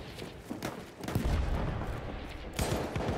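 Gunfire and explosions from the video game Battlefield 1, with booming shots and a heavy sustained burst of fire rising after a brief lull, loud and dense throughout.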